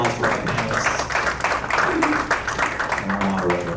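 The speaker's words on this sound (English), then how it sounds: "Let's have a nice warm-up round of applause for our" A conference audience applauds the panelists and moderator at a data and AI event, steady clapping filling the room throughout with some voices mixed in.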